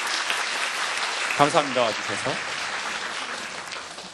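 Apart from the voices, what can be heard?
audience applause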